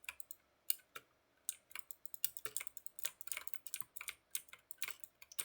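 Rapid computer keyboard typing with uneven bursts of sharp key clicks and brief pauses, fairly close and alone with no talking.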